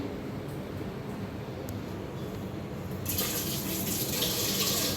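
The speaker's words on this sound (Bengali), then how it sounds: "হাতটা একটু ধুয়ে নেই।" Tap water runs steadily while hands are washed beneath it in a home kitchen, a close continuous rush that grows brighter and splashier partway through, with no one speaking.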